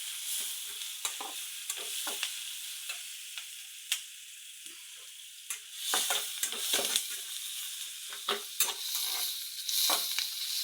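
Cumin seeds fry in a pan with a soft, steady sizzle while a utensil scrapes and taps through them in irregular stirring strokes, fairly quiet and close, no voices.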